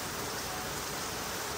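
Rain beginning to come down outdoors, a steady broadband hiss of drops falling on surfaces, even and constant throughout at moderate level, with no talking.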